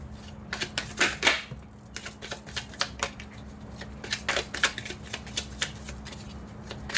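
Cards are shuffled for a card reading, with repeated quick riffling bursts and soft flicks close by, irregular in rhythm over several seconds in a quiet room.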